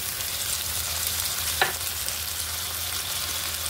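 Ginger garlic paste fries in a pan for an aloo broad beans curry, giving a continuous bright sizzle with one brief scraping stir partway through.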